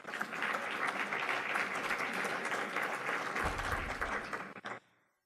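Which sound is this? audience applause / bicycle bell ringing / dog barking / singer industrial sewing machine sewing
audience applause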